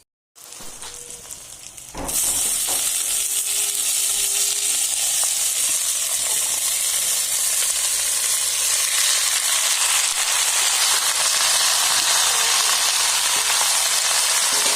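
Vegetables frying in hot oil in a home kitchen start to sizzle loudly after about two seconds, then keep up a dense, steady hiss to the end with no one speaking.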